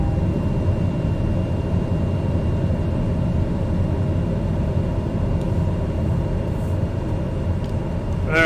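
A small aircraft in Microsoft Flight Simulator rumbles in a loud, steady engine drone on the runway during its takeoff run, holding the same level throughout.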